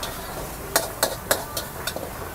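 Chicken frying in a wok for fried rice at a Bangkok street stall, a steady sizzle broken by a quick series of sharp metal spatula scrapes and clanks.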